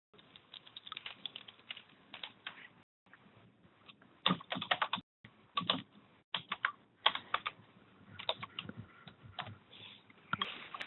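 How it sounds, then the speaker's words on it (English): Rapid typing on a computer keyboard, close-up bursts of clicking keys with brief pauses between runs, steady and moderately loud with no voices. "So if you just want to type your favorite dessert in the chat forum."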